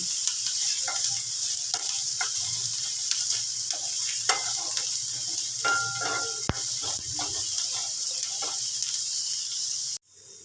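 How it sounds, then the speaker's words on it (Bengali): Chopped onions sizzle steadily in hot white cooking oil for a creamy white sauce pasta, with soft scraping and stirring clicks over the constant hiss, close up, stopping abruptly near the end. "এটাকে হালকা হাতে একটু নাড়াচাড়া করতে হবে।"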